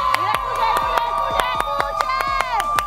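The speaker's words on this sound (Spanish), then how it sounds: "¿Ustedes escuchan a la gente que grita?" Live show audience at TwitchCon shouting and cheering loudly, a dense crowd roar with rhythmic claps or stomps punctuating it throughout.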